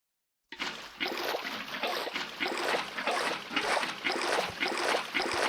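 Continuous splashing water in the Minecraft 1.20.1 survival multiplayer world, loud and steady with rhythmic surges of spray, starting after a brief silence, with no talking.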